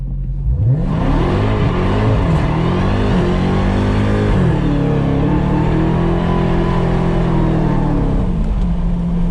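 A 2021 Dodge Charger SRT Hellcat Redeye Widebody launches at full throttle, its supercharged engine roaring loud and close as it climbs through the gears, with pitch sweeps and brief dips at each shift.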